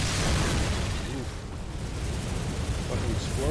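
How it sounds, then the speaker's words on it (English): A Bloodborne explosion booms in a rolling, low rumbling burst that fades and swells over a few seconds, loud and close, with some muffled in-game noise layered over it. "Fucking explosion still hit me."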